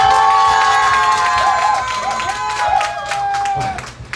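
An audience at a Korean traditional music disco medley performance claps and cheers over sustained backing music, a broad steady crowd noise that dips slightly midway and drops off near the end.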